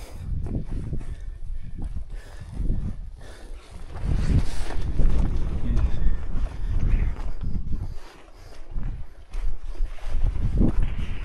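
Gusty cold wind on the Ambangeg Trail of Mt. Pulag rushes and buffets the microphone in uneven surges, loud and rumbling, rising and falling with no voices.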